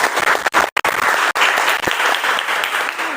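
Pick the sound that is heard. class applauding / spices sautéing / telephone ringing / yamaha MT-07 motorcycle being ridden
class applauding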